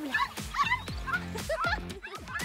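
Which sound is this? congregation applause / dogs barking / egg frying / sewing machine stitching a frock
dogs barking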